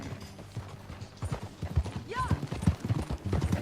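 Horse hooves clip-clop at a steady trot while riding in Red Dead Redemption 2, a close, regular rhythm running through the clip beneath brief spoken words and some in-game chatter.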